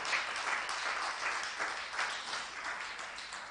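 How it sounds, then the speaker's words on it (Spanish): A church congregation claps together in soft, steady applause that continues evenly for several seconds, faint and somewhat distant. "Vamos a darle ese aplauso al Señor."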